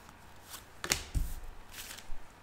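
Tarot cards being shuffled by hand, a few soft riffling bursts and light slaps at close range with brief quiet gaps between them.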